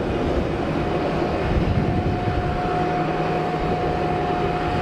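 KLM Boeing 737 airliner at Geneva Airport, a loud continuous broadband engine roar with a steady whine, distant and even throughout, no speech.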